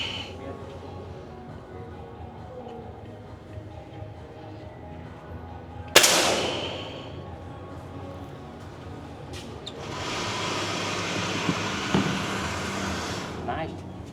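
A single sharp gunshot cracks at a shooting range near a town in Vietnam, loud and close with a short ringing decay, while voices murmur before and after and a steady hiss rises later.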